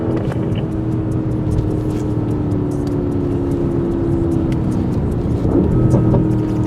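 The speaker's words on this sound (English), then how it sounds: "Listen to those downshifts." A Porsche on a race track runs its engine at a steady, droning pitch, then shifts tone near the end as it downshifts, heard loud and close with no talking.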